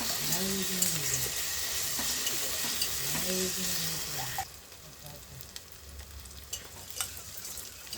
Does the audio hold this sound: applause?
no